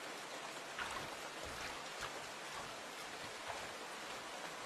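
Rain falls steadily in a cartoon golf scene, a soft, even hiss of pattering drops with faint brief splashes, fairly quiet and with no voices.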